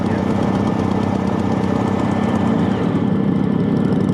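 A 1979 Harley-Davidson motorcycle engine idles nearby, a loud steady low rumble with an even pulsing throb and no pauses.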